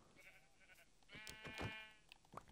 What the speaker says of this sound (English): There's a white sheep and a black sheep.